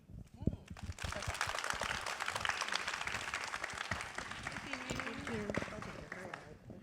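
An audience at a debate final and dialogue event at M+ bursts into warm applause, dense clapping that swells and holds for several seconds, then thins out, with a voice speaking over it.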